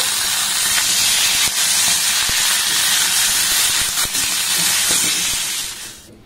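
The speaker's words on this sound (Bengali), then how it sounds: "এবার পটলগুলোকে আমি খুব ভালোভাবে ভেজে নেব।" Pointed gourd (potol) frying in hot oil, a loud close continuous sizzling hiss with faint ticks, holding steady before easing off at the very end, no speech.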